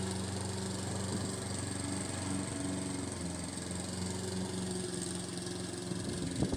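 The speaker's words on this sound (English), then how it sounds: "It's got a Honda engine on it, which really only runs at one speed" A Hayter Harrier 41 Pro lawn mower with a Honda engine runs at one steady speed, a close, even mechanical drone with a constant hum and no voices over it.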